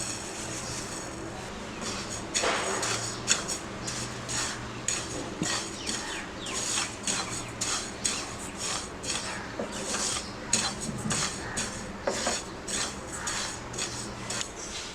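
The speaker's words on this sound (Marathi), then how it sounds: "तीळ आपण आता तव्यावरती भाजून घेणार आहोत।" Black sesame seeds roasting in a hot pan over a low flame, sounding as a steady dry crackle and rasp with irregular clinks and scrapes of a utensil stirring against the metal, close and continuous with no talk.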